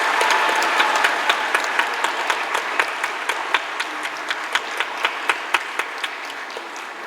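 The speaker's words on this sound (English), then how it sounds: "graduates, clap for yourselves." Graduates at a graduation ceremony clap for themselves, a steady, dense round of applause from a sizeable group, with a few sharp individual claps standing out near the mic.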